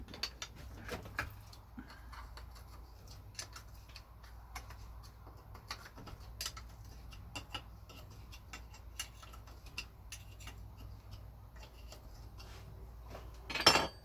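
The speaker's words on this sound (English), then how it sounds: "then we'll take off this bolt right here while we're here" A 10 mm bolt comes off a Chinese quad engine during teardown: faint, close ratchet-wrench clicks and light metallic ticks scattered over a low steady hum, ending in a slightly louder clatter.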